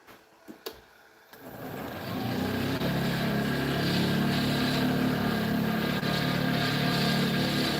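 A lathe spins up to about 2,200 RPM with a carbide tool cutting the workpiece. After a few quiet clicks, a steady loud whirring drone rises and holds.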